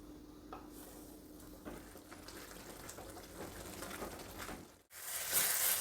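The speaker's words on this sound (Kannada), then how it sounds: "ಇದು ಕುದ್ದು ಗಟ್ಟಿಯಾಗಬೇಕು, ಅಲ್ಲಿವರೆಗೂ ಕುದಿಸ್ಬೇಕು." Thick tomato mixture for tomato avalakki bubbling hard over a high flame, a steady close simmering hiss with occasional stirring scrapes and pan clinks, growing louder toward the end.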